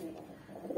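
Desi kaldum pigeons, including giribuz kaldum birds kept in a cage, give soft low cooing calls that murmur steadily and rise slightly toward the end, close by and fairly quiet.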